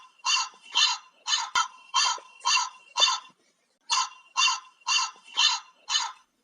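A crow caws repeatedly and loudly, about eleven harsh calls in an even rhythm with one short pause midway. No voices.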